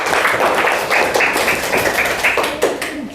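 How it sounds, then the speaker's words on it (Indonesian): A classroom of students applauds together, brisk dense clapping with distinct taps and a few louder slaps, lively and close throughout, with no speech over it. "tepuk tangan buat semuanya"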